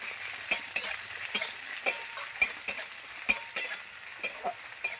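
Chopped onions fry in a pan with a steady close sizzle, broken by scattered sharp ticks and scrapes of stirring, and no voice over it.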